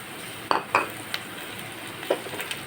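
Dried red chillies, cut into pieces, fry in oil in a pan for a vegetable curry, with a few sharp clinks of a spoon stirring against the pan over a soft steady sizzle.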